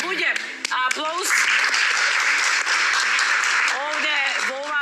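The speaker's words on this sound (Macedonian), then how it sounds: "Луѓе, аплауз." A game-show studio audience breaks into a burst of clapping for a few seconds, dense and close. Voices speak just before and after the clapping and briefly over it.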